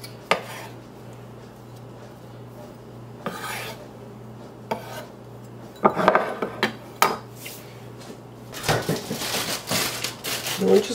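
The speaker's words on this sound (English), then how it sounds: "And chop it fine." A knife chops fresh basil finely on a cutting board in irregular taps that quicken into clustered bursts toward the end, with someone speaking between them.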